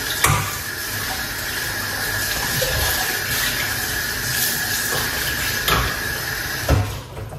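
Coconut water poured from a container into a juice mix, a steady liquid stream running for several seconds at close range with a few sharp knocks and clinks, no talking.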